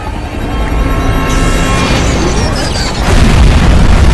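A loud, sustained explosion in a Skibidi Toilet animation, a broad rumbling boom that swells and stays dense for several seconds with a further surge near the end.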